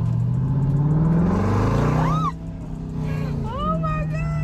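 A Jeep Grand Cherokee Trackhawk on 26-inch wheels accelerates, its engine droning and revving steadily, rising and falling, with a brief whine mid-way and higher tonal squeals near the end.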